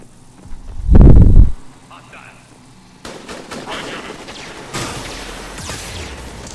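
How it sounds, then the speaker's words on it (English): Particle beam rifle fire in the video game Awakened Collector Adept: one loud, heavy burst of weapon discharge, followed by a busy layer of lighter game effects and noisy bursts. "I really like using the particle rifle with this build"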